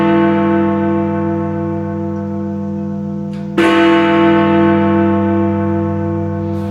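The Big Ben bell rings loudly with a deep, sustained chime whose harmonics hang in the air. A second strike lands partway through and renews the resonant, reverberant tone, with no voices.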